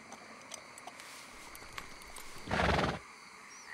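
A horse in the video game Red Dead Redemption 2 gives a single loud neigh partway through, amid light scattered clopping and faint background noise; nobody speaks.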